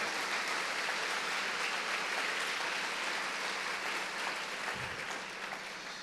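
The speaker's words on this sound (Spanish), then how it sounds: "Dale un fuerte aplauso al Señor." A church congregation gives the Lord a strong round of applause during a Spanish-language sermon, a dense, steady roar of clapping throughout that eases slightly at the end.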